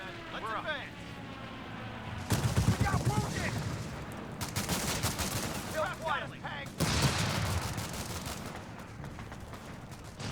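Airstrike and gunfire in the video game Company of Heroes 3, dense rattling bursts of shots and booming impacts layered over one another, with game voices calling out through the noise.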